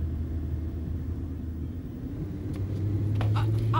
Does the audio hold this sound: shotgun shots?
no